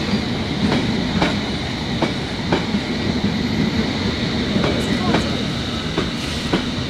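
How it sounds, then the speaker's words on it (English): London Underground Metropolitan line train running into the sidings at Amersham, a steady rumble with clickety-clack wheel beats over rail joints at a regular rhythm, close and continuous. "So this train right here is the most westerly underground train."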